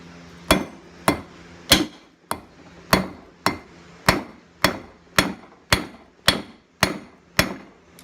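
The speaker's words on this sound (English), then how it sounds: "We're going to go ahead and flatten this out nice and cold." Flat-faced hammer flattening cold metal on an anvil while forging a small hammer key ring: about thirteen sharp, ringing blows struck at a steady, even rhythm, close and clear.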